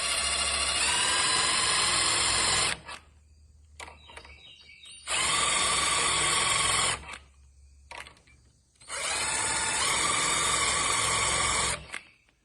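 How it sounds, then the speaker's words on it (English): A power drill with a centering bit drills pilot holes for door hinges using a mortising jig, whirring in three short bursts of about three seconds each, loud and close, with quiet pauses and faint handling noises between them. "drill my pilot holes with the centering bit"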